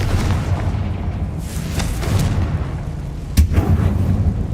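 Confringo fire spell blasting in Hogwarts Legacy inside a mine resembling a tomb: a deep booming impact over a rumbling background, then a sharper loud burst near the end, close and heavy.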